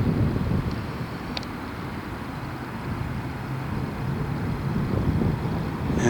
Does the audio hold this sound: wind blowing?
yes